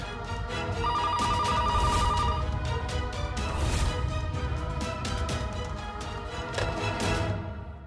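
A telephone rings insistently in repeated electronic trills, loud and close, continuing for several seconds.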